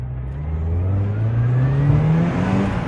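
Mazda MX-5 NB with a factory turbo engine accelerating, a steady rising engine drone climbing in pitch as it pulls hard, heard from close by with no talking.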